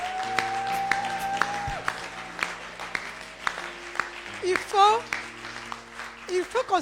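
Worshippers in a church service clap along in a steady rhythm, the sharp claps sitting under sustained singing and voices, with a louder burst of cheering near the end.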